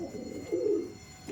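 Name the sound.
pigeon cooing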